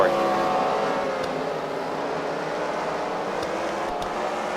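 Race cars run at a track during a fight night event, their engines a continuous distant roar that fades slightly, with faint talk mixed in.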